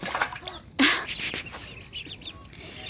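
Ducks and Orpington chickens on a farm make scattered clucks and quacks close by, with one sharper squawk, over a quiet outdoor background.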